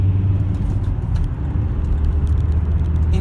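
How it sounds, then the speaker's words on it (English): A high-mileage Volvo S80 drives along, its engine and road noise forming a loud, steady low rumble with a constant droning hum, heard from inside the car without talk. "It drives really well, it pulls well, it goes into gears with no effort whatsoever."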